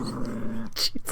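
Dogs growl and whimper up close in short, tense bursts, with a brief sharp yelp near the end, during a hotel ghost hunt.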